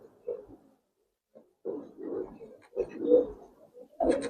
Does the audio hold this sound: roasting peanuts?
no